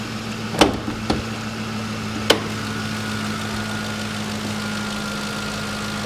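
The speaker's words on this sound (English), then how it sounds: "There's the engine. Sounds nice and strong." A 2007 Ford F-150 4x4 engine idles steadily with a low, even hum, broken by a few sharp clicks or knocks early on, with no one speaking.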